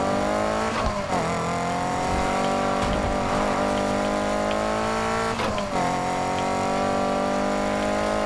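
A steady, loud car engine in the video game Need for Speed Heat drones continuously with a rough, buzzing exhaust note, its pitch shifting slightly as the vehicle revs and eases off.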